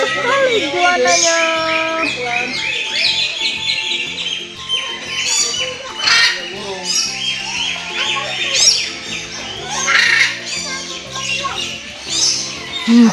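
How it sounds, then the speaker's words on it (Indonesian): Many birds call and squawk over one another in a busy, continuous chorus at a bird park, with people talking intermittently beneath the calls. "Banyak burung."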